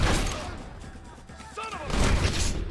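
Gunfire in Red Dead Redemption crackles in dense overlapping shots and thuds, swelling louder toward the end, with voices shouting beneath the shooting.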